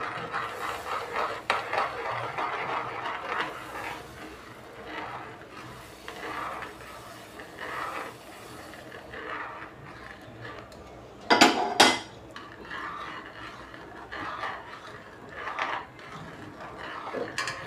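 Ground moong dal and rice stirred into boiling water in a pot, with soft scraping and scattered utensil clinks and one louder metallic clatter partway through.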